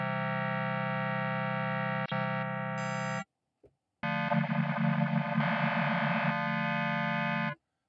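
Sustained buzzy tones from a Parallax synthesizer patch: first a steady droning note, a short pause, then a second harsher patch with wobbling, modulated texture before cutting off.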